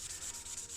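A 1200 grit sanding pad rubs over a die-cast Matchbox Bedford model in quick, faint, rhythmic back-and-forth strokes, a soft hissy scraping heard close with no talking.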